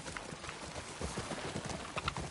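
Hoofbeats of a horse galloping in The Last of Us Part II, a steady rapid clip-clop at moderate loudness with busy game ambience behind.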